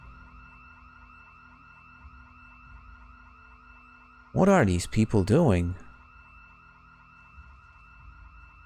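A video game alarm siren wails in a steady, repeating pattern that continues throughout, and someone briefly talks over it in the middle.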